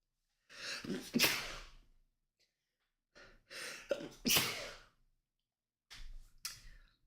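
Three sneezes in a row, each a sharp close burst with a quick inhaled build-up, separated by brief silence.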